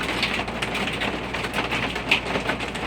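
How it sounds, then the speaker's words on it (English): Hail pelts down during a strong storm at night, a dense and steady patter of many small impacts that keeps going without a break, with one brighter hit standing out near the end and no voices over it. "That's hail. We're in the middle of a pretty strong storm."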